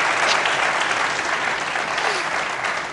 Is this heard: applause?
yes